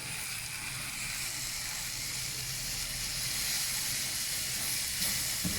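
Tomato paste and a splash of water in a hot pan give off a steady, even hiss of sizzling and steam, moderately loud and unbroken throughout, with no talking.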